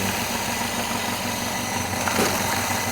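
A small, cheap grass chopper machine runs steadily at close range, giving a constant engine drone with a vibrating hum and no talking.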